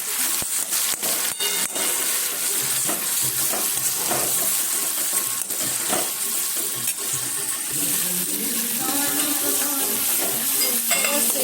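Onion, garlic and spices frying in a pan for a spinach-garlic curry: a steady bright sizzle with scraping and clattering of a spoon stirring, continuous and close.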